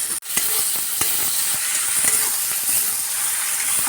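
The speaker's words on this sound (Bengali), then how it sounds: "মাছগুলোকে দিয়ে আমরা হালকা নেড়ে চেড়ে দিচ্ছি" Small mola fish fry in a pan while being stirred, producing a loud, steady sizzle broken by occasional soft scrapes and taps of the spatula, without any speech.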